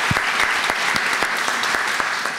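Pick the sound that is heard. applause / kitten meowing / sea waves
applause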